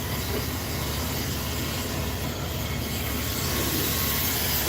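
A vacuum cleaner running steadily nearby, a constant broadband whooshing hum with a high whine on top, holding even loudness throughout.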